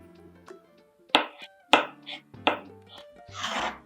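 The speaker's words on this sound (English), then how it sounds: "Start by peeling and slicing your avocado." Knife work on an avocado for crispy avocado tacos, heard as several sharp, close cuts and taps against a board at uneven intervals, with softer handling sounds in between.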